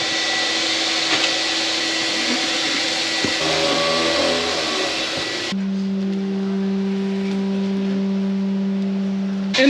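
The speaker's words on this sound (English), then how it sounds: "today we are using the seeder just to kind of get an idea of how many seeds are going into each cell" A seeder machine runs while sowing red, yellow and white onion and leek seed into trays, giving a steady mechanical whir with a constant droning hum that shifts partway through, with no talk.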